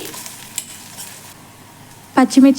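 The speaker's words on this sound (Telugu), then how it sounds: "సన్నగా తరుక్కున్న ఉల్లిగడ్డ బాగా వేగాలి. మంచిగా బంగారు వర్ణం వచ్చేదాకా వేయించుకోవాలి" Thinly sliced onions and green chillies frying in a pan for chicken fry-piece biryani. A low, even sizzle carries through, then loud, close clanks and stirring clatter burst in near the end.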